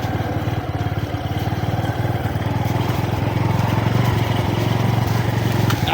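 A motorcycle engine runs steadily close by with a rapid, even, throbbing putter and slight rattle, holding a constant loud level throughout with no voices.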